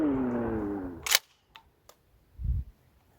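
A Pardus Arms LAX 12 shotgun fired once at a target, a sharp loud blast followed by brief echoing clicks and a dull thud, after a fading tonal ring at the start.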